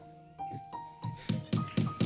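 Hammer tapping, a series of about seven short, light knocks at a quickening rhythm, faint and fairly close, over a soft sustained tone.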